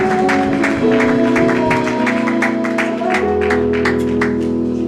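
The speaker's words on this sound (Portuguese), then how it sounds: "Um grande aplauso ao nosso Deus." Church congregation clapping in a steady rhythm while sustained organ or keyboard chords play beneath, the claps sharp and close above the music.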